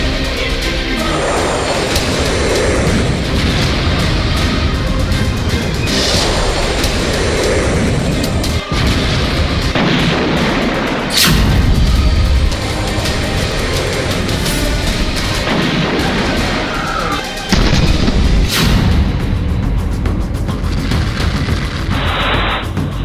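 Hundreds of nuclear missiles launch at once, a loud continuous roar of rocket fire with repeated sharp blasts and booms spread across the whole stretch, no voices over it.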